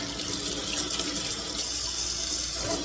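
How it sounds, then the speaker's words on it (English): Warm tap water runs steadily into a kitchen sink to rinse a cast iron pan after cooking, making a continuous close hiss and splash that lasts throughout with no talking. "First thing we want to do is we want some warm water."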